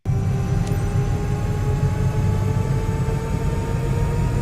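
A helicopter engine runs while taxiing in Microsoft Flight Simulator 2024, starting abruptly into a loud, constant turbine drone with a sustained whine and a low rumbling bed that holds without change.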